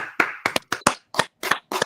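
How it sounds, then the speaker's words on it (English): Applause welcoming a guest on a talk show, heard as a handful of separate, close hand claps in an uneven rhythm with brief silences between them rather than a full crowd. "Please receive him with a warm round of applause."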